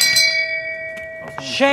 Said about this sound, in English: Ring the bell for notifications.